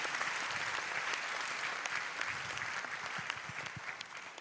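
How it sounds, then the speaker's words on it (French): Audience at a church conference honoring a guest of honor claps massively, a dense, loud, sustained round of applause with scattered sharper individual claps and no voices. "Applaudissez encore"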